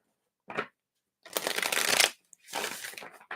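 A deck of reading cards is shuffled in three separate bursts of riffling: a brief one first, then a long, dense stretch, then another sustained run, all close and clear with no talking.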